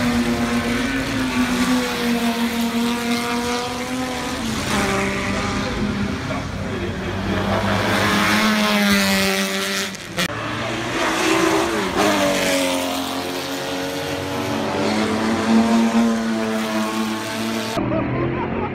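Several racing cars, including a Lamborghini, run past in pouring rain, their engines droning and rising in pitch as they pass, with a steady wash of rain and spray beneath and people talking over the top.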